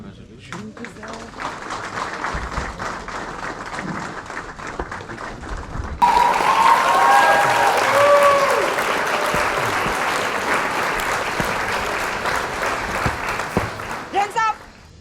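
Applause for police cadets at an attestation parade of the Arunachal Pradesh Police: a large crowd clapping steadily and loudly outdoors, following a spoken announcement over a PA.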